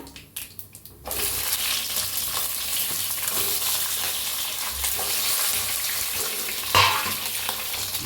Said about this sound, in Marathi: आता मिरच्या टाकून घेऊया